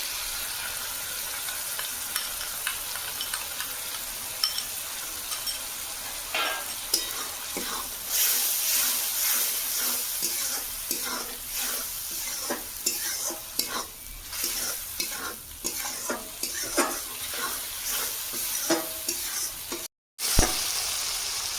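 Chili and turmeric powder mixed with water being stirred into frying fish curry in a pan, with a long run of close spoon scrapes and clatter over a continuous sizzle, growing busier midway, then a brief dropout near the end.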